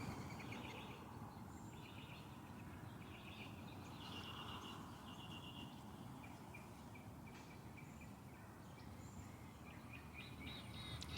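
Faint birdsong outdoors, scattered chirps and short trills drifting over a soft, steady background of insect and ambient noise, fairly distant and quiet throughout.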